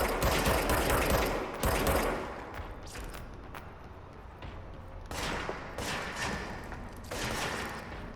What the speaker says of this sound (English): Oh shoot, they're firing at us.